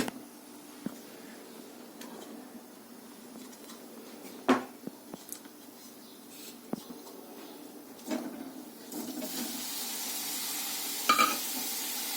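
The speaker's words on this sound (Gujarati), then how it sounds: "મસાલા બ્રોકોલી બનાવવા માટે અહીં હું પહેલાં એક ચમચી તેલ લઈ જેમાં બ્રોકોલી સાંતળી લઈશ" Broccoli sautéing in a spoonful of oil for masala broccoli gives a faint sizzle that swells into a steady hiss in the last few seconds, with scattered clicks and knocks of utensils against the pan.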